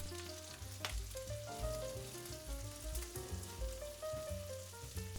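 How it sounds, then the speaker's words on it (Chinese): Shrimp and garlic cloves pan-frying over low heat for a shrimp and radish stew, giving a steady close crackling sizzle that carries through without pause, with no voices over it. "这时候就可以把蒜粒放进去一起煎了"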